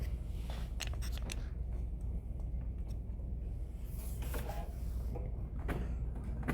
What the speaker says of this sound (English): I am going to sew right across here a 1/4 inch seam on both my lining and my outside.